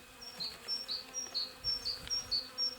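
Honey bees buzz at a hive in early spring, high chirping insect tones repeating in short bursts over a quiet background, with faint low knocks between them.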